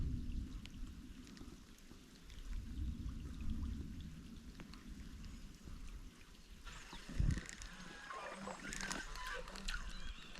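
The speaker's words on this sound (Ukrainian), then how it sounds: "Трошки такий дощ моросить." Light drizzle falls outdoors by a river during a fishing trip after a thunderstorm, a soft continuous patter with faint scattered drops and some rustling, fairly quiet throughout.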